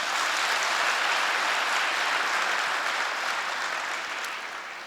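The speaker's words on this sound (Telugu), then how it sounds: "చప్పట్లు కొట్టరా దీనికి?" Sustained applause from the audience at a Catholic Bible convention in Hyderabad, a dense steady wash of clapping that holds loud for several seconds before starting to thin out near the end.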